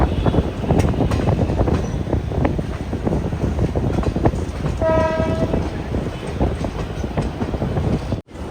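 Garib Rath Express train at Kadalundi railway station, a loud continuous rumble of rolling rail cars with a brief horn blast near the middle and no talking.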